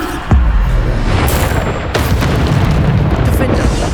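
A Bombarda explosion spell in Hogwarts Legacy erupts in a loud, deep boom with a sharp attack, followed by rumbling game noise and a second burst.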